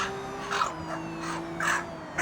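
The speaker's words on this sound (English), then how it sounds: "This animal rehab place wears a mask so that this baby raven doesn't associate humans as a food" A baby raven being raised at an animal rehab centre gives a few hoarse, rasping caws in a short uneven series. The calls are close and fairly loud over a steady low background hum.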